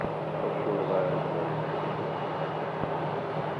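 A UPS Boeing 767 at Phoenix airport gives a steady, broad engine rumble and roar that holds level throughout, with no clear rise or fall.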